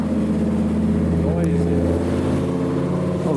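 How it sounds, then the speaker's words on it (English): A green Lamborghini Huracan STO passes by outdoors, its exhaust note rising then sweeping down in pitch as it goes past, heard over steady engine and traffic rumble in the background. "There's a Huracan STO coming."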